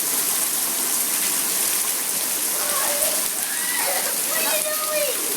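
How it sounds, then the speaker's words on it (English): Heavy rain mixed with hail pours down in Peguche, Ecuador, a dense, steady hiss of drops and pattering that fills the whole stretch without a break. "Look how much it's raining."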